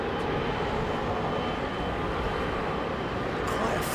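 Twin-engine airliner departing London Heathrow, a steady broad engine roar that holds at even loudness throughout, heard from a distance outdoors.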